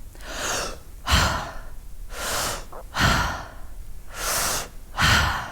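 Deep, rapid breathing from a yoga breathwork exercise: about six strong breaths alternate steadily between forceful inhales and exhales, close and clear with no talk.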